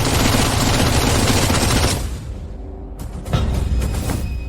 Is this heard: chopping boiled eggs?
no